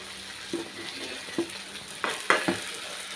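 Masala-coated fish frying in a pan, a steady close sizzle broken by several sharp clinks and scrapes as the pieces are turned, with no talking.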